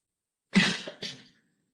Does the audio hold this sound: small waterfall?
no